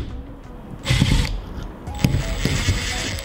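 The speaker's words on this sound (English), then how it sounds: "Take the bolt off first." A bolt being worked off a T-handle lock on a truck shell, giving a close mechanical ratcheting and metallic clicking in a few short bursts against a steady background.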